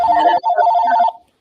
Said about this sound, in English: Uh-oh, Casey's got a phone call.